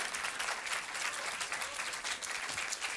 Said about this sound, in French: On peut l'applaudir vraiment très très fort.